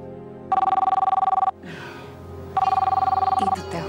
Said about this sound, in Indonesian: Itu telepon pasti untuk kamu.